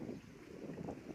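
Cool wind blowing outdoors by rice fields, buffeting the microphone with a steady, rumbling low roar that swells and dips throughout, no voices present.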